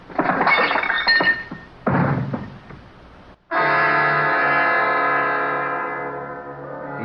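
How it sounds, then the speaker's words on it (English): A sugar bowl is swept off a table and shatters on the floor in a radio drama, a close crash of breaking china and glassy clinks followed by a long ringing tail that slowly fades. "swept the sugar bowl off it, and followed it to the deck"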